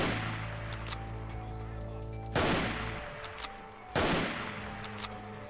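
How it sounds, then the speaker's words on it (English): Gunfire in the Skulltag video game running the Swan Fox 2 mod: loud, sharp shots ring out over a droning background, two big blasts with long echoing decays about a second and a half apart. "Gonna shoot this guy again."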